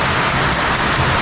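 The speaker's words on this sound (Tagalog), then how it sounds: "Kaso lang malakas talaga ulan eh." Heavy rain pours steadily and loudly, a dense unbroken hiss of downpour close by, with no voices over it.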